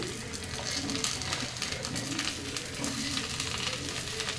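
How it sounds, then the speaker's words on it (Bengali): Yardlong beans fry lightly in a pan for a Chinese-style vegetable dish, giving a steady, dense sizzle with soft crackles that continues evenly throughout, with no voices. "এগুলি হালকা ভেজে নেব ভাজার পরে দিয়ে দেব"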